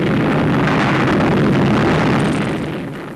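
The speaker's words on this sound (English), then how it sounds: "explosions averaged 1 every 2 seconds" Volcanic eruption sending out a continuous, heavy roar of explosions about one every two seconds, loud and broadband, heard alone with no voices and easing slightly toward the end.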